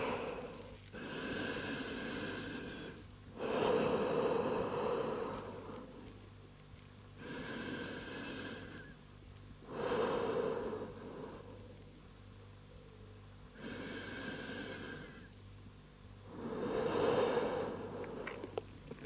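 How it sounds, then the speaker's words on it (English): Slow, deep breaths taken during a yoga child's pose, heard as a near, airy inhale and exhale repeated about six times in an even rhythm, with quiet gaps between them. "take 3 deep breaths in a child's pose"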